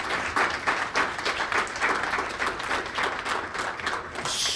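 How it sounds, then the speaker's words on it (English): Applause for staff award winners at a workplace quarterly all-stars event, steady crowd clapping that carries on at an even level through the whole stretch. "A huge round of applause to all the awardees today."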